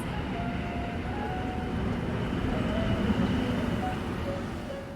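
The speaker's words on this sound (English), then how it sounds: "Look, the train will be here in 2 minutes." A steady low rumble of a Paris metro train rolling in, with faint whining tones over the continuous drone and no talking.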